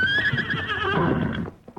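A horse in a radio drama gives a single loud, close whinny lasting over a second, rising then trailing off, followed by a few faint hoof clops.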